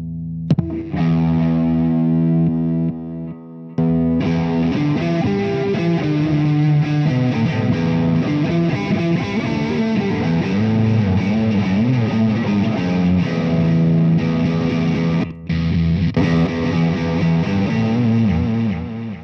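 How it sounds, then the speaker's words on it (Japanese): An electric guitar played through a British-made germanium distortion pedal gives a thick, earthy, fuzzy tone, with chords and notes ringing out steadily for nearly twenty seconds, broken only by two brief pauses. "この同じ系統でゲルマニウムの歪みが"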